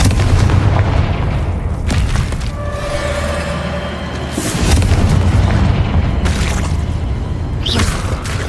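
Confringo fire spells burst in Hogwarts Legacy gameplay as loud, deep booming blasts, one after another over a rumbling, crackling background.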